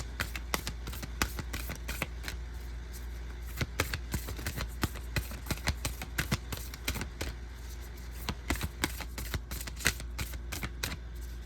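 Large ancestors spirit oracle cards shuffled in a steady stream of soft, close taps and card slides over a low background hum, continuing evenly throughout.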